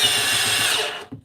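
DeWalt 12-volt Extreme cordless driver whirring steadily at close range for about a second, then cutting off, followed by a short knock.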